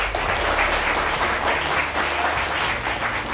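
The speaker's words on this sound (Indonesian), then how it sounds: "Tepuk tangan boleh buat BHS." Studio audience applause on an Indonesian political talk show, a dense steady wash of many clapping hands held at an even level for the whole stretch.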